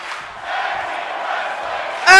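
A roaring, cheering arena crowd in an NXT wrestling video game, a steady wall of noise that swells louder at the end.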